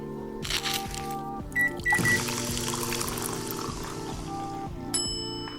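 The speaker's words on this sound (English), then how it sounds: "pour milk and then etch or stencil" Milk being poured for latte art in a coffee shop setting, a soft liquid trickle and pour mixed with clinks and brief tonal beeps from nearby equipment, close and moderately quiet.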